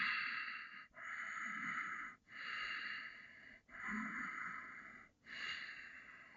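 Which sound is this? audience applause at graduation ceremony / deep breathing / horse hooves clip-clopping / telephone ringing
deep breathing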